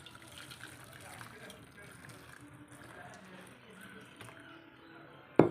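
Hot water pours over dark tamarind in a kitchen, a soft steady liquid splash and trickle running close by, ending with a brief louder knock.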